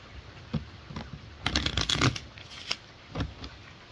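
Playing cards are riffled and shuffled for a card game, crisp papery bursts coming in short irregular bunches with a louder flurry in the middle, close by and with no talk.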